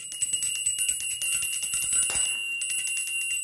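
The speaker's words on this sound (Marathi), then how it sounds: "घंटी कंटिन्यू वाजवत राहायची आहे" A small hand bell rings nonstop in quick, even strokes during a one-minute coin-picking party game, close and bright with no talk over it.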